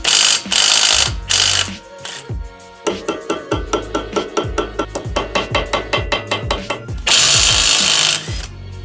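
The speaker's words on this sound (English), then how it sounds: "or we can use an impact gun." An impact gun works a 29 mm axle nut on a Mazda Miata, with two long buzzing bursts framing a stretch of rapid, rhythmic hammering blows, loud and close.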